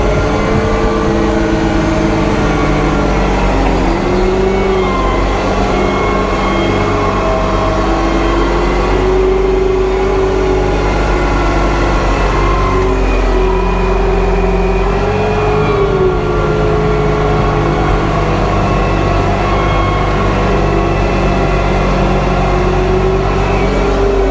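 An old tractor engine chugs steadily and loudly throughout, with a low rumbling idle and occasional small shifts in pitch as it works.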